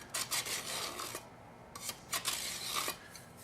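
A steel scribe scrapes across sheet metal while marking flanges for a modular rocket stove, making several short, close, raspy strokes in quick succession with brief pauses between them.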